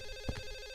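A telephone in Silent Hill 4 gives a brief electronic ring, a short tonal burst over a steady background drone.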